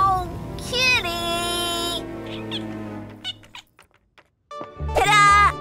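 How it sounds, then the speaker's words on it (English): A cat in an animated children's episode meows several times, bright, drawn-out cries near the start and again at the end, with a voice briefly mixed in. "Oh, kitty!"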